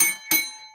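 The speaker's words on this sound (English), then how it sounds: "There's a bell" A single bell rings out, struck twice in quick succession: a bright, clear ding fades, then a second strike sustains a long ringing tone that slowly decays, loud and close.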